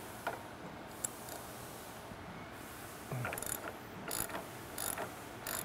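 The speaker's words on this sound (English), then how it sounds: "Step one is to remove the retaining disc on top of the strut by removing this locking nut here." A ratchet works the locking nut off the strut top of a 2010 Chevy Camaro, giving quiet intermittent clicking bursts, a few quick runs of ticks close by with no talking.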